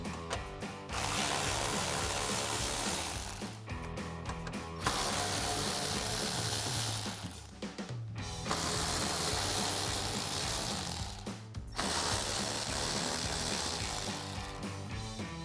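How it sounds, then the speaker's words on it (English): A ratchet with a 10mm socket backs out the grill bolts on a 2014-2021 Toyota Tundra, giving long runs of rapid, close clicking separated by brief pauses between bolts. "we'll use our 10mm socket on our ratchet."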